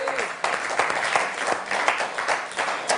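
Sparse, limp applause from a studio audience on a French letters-and-numbers game show, scattered claps holding at a moderate level for a few seconds.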